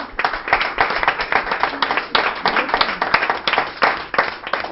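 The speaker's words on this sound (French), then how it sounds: "On l'applaudit bien fort" An audience claps loudly for Guadeloupe's carnival queen, a close, continuous patter of many hands with an uneven, pulsing rhythm that fills the whole stretch.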